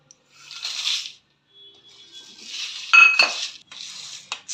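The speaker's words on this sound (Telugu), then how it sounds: "ఇలా కలుపుతూ ఉండాలి, మాడిపోకుండా కలుపుకుంటూ ఉండాలి." Dried red chillies and lentils being stirred as they roast in a pan, with a spoon scraping and clinking against the metal in short, irregular bursts and brief pauses, close by and fairly loud.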